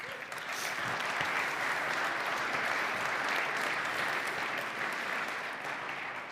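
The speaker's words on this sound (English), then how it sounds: "I would like you to applaud all those people." A large audience at a Luxembourg business awards event gives steady, dense applause. The clapping holds at an even level for several seconds with no talk over it, then eases slightly at the end.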